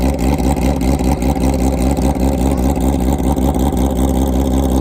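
A green nitrous-fed drag motorcycle engine at a drag strip runs loud and steady, its harsh, pulsing idle and revving sustained close up with no talk over it.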